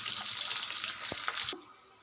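Gooseberries (amla) fry in hot oil in a pan for pickle, giving a steady bright sizzle with a few soft stirring knocks, then the frying fades sharply to near quiet.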